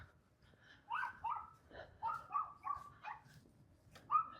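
A small yappy dog barks in short, high yips, about eight of them in an uneven run, fairly distant against a quiet outdoor neighborhood in Seven Hills, Henderson, Nevada.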